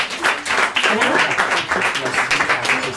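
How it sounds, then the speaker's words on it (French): An audience applauds loudly during an improv theatre show in a bar, dense sustained clapping mixed with voices and cheers throughout. "on applaudit bien fort, on applaudit bien fort."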